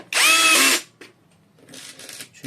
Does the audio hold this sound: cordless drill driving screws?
yes